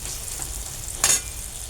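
Spices and turmeric fry in hot oil with a continuous soft sizzle, then a short louder burst of crackle and a scrape about two-thirds of the way through.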